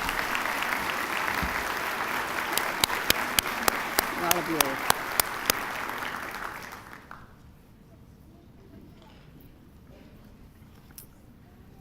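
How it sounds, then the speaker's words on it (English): Audience applause at a university convocation ceremony: a loud, full burst of many hands clapping with a few crisp standout claps. After about seven seconds it cuts off, leaving a quiet, faint room tone. "I would like to end by giving them a round of applause"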